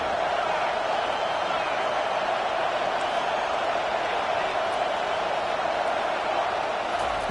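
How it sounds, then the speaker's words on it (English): A football stadium crowd roaring for the defense on third down, a dense sustained wall of cheering noise at steady loudness throughout. "Decibels rising as the crowd gets behind this defense on third down."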